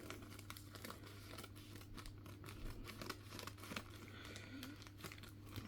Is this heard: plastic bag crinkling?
yes